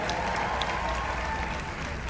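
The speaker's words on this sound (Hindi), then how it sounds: "बहुत सारा तालियां इजाज भाई के लिए." Dense audience applause at the HUM Award 2025 ceremony in America, a steady, loud wash of clapping from a large crowd throughout.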